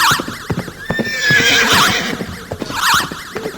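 A horse gives a loud, drawn-out whinny that rises and falls, set against a rhythmic clip-clop of hooves; no voices are present.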